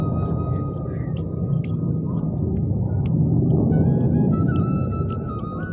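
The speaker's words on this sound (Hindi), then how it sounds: "ये मेरे पीछे जो आवाज़ आ रही है ये वायु सेना का सुखोई विमान है" A heavy, steady roar from Indian Air Force Sukhoi jet aircraft on a training session near an airport fills the air, broad and rumbling, with faint high tones and clatter above it.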